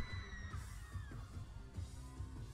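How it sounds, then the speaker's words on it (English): A concert crowd at a show in Kraków, Poland, cheers and yells in bursts over a pounding low beat, the roar heard at some distance and fairly faint. "listen to the crowd"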